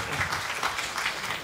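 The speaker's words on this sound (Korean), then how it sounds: "박수로 환영해 주시기 바랍니다." Audience applause, a dense wash of many hands clapping at once, sustained and moderately loud throughout.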